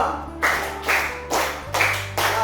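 Five claps in unison from a group of teachers in a classroom, each burst crisp and separated by short gaps, close and moderately loud over a low steady hum.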